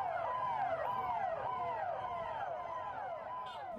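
Police car sirens wailing in a repeating rising-and-falling cycle as Delhi Police vehicles circle Gurudwara Bangla Sahib in a procession, loud and steady throughout with no talk.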